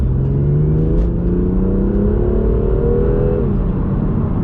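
A BMW M2 accelerates hard from inside the cabin, its engine note climbing steadily in pitch through the gear, loud and continuous, then easing off near the end.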